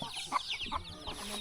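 Village chickens clucking in a rural Lao ethnic minority hamlet without electricity, a few short clucks at middle distance over faint ambient noise.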